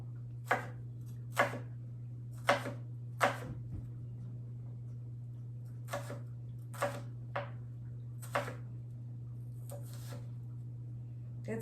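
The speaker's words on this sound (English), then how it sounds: "I'm just going to thinly slice this one too." A knife thinly slices vegetables for a zucchini coleslaw, making about a dozen crisp, separate cuts at an uneven pace over a steady low hum, close and fairly quiet.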